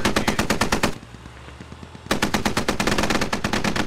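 Rapid automatic gunfire in the video game SquadOps: two long bursts of fast, evenly spaced loud shots separated by roughly a second of quieter pause.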